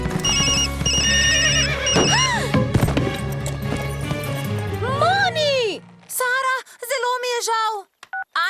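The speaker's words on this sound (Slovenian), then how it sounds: "Sinoči so Ani dala novo zvonjenje. Nisem vedela, kako glasno je." A loud new phone ringtone goes off in an animated show, bright repeating electronic beeps and warbling tones layered with music and cartoon effects, while voices talk and react over it.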